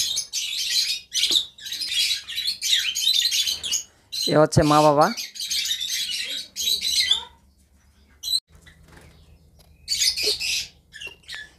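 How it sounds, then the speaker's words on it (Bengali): Caged lovebirds and cockatiels chirp in repeated bright bursts, with short squawks in between and someone talking nearby at times. "অনেক সুন্দর পাখিগুলি"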